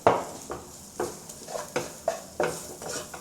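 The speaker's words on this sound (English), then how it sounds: "let's return the pork back to the pan and mix together" Minced pork and silken tofu being stirred in a pan with a utensil, a series of about eight scraping, clacking strokes at a steady rhythm over a soft sizzle, close and moderately loud, no talking.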